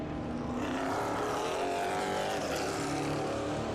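EuroNASCAR race cars lapping a circuit in Italy during qualifying, a steady sustained engine roar from a distance with no distinct pass-by, holding at an even level throughout.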